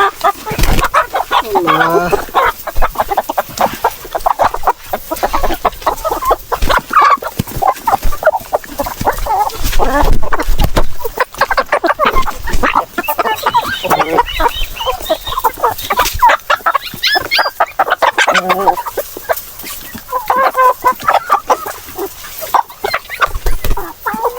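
A flock of farm chickens eating ripe papaya clucks busily and continuously nearby, with overlapping calls and pecking at close range throughout.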